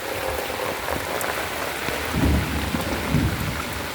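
Heavy rain pours down steadily in a dense hiss, with a few low rumbling swells partway through.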